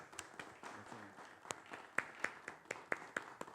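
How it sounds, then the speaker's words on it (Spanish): Scattered, faint audience applause, with individual claps picking up into a loose, uneven patter heard from a distance. "un aplauso por favor para él"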